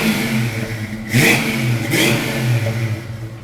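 Supercharged 1970 Ford Mustang fastback engine revving up loudly, with two sharp throttle blips over a rumbling idle, close and alone without talk.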